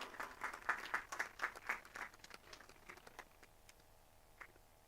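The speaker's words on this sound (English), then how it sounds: "let us give a big round of applause." A small group at a Republic Day ceremony at a Pune institution applauds students for a PSLV satellite launch achievement; a rhythmic burst of distinct claps thins into scattered, fading hand claps.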